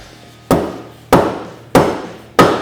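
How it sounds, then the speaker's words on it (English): A rubber mallet strikes a hub rotor assembly on a Polaris RZR Turbo S four times at a steady rhythm, each a sharp, close, solid thump that decays quickly. "Sometimes you'll have to take a rubber mallet, just kind of tap around"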